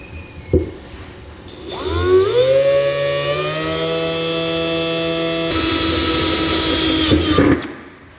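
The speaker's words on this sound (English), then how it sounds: "Now to prevent my drill bit from skipping around, I'm going to start out really slow" A power drill spins up slowly and whines steadily at a constant pitch for several seconds, close by, drilling a hole while installing a B&W Companion fifth-wheel trailer hitch underbed kit, then winds down.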